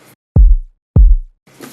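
Two deep, punchy electronic kick drum hits processed from a click sound, evenly spaced with a short boomy tail, framed by brief snippets of talk at the start and end.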